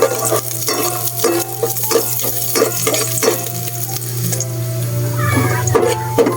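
Garlic fries in a pan for lechon paksiw, a steady close sizzle broken by repeated clinks and scrapes of a spatula stirring against the metal.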